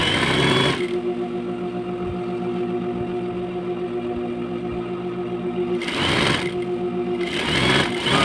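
Sewing machine stitching fabric for an all-purpose grocery bag, a steady close mechanical whir with rapid needle clatter, running continuously with brief louder bursts at the start and end, no talk.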